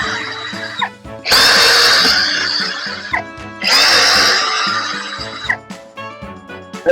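Plastic cooler vent cover being pried off inside a car during a DIY heater install, giving two loud bursts of scraping, creaking plastic separated by short pauses.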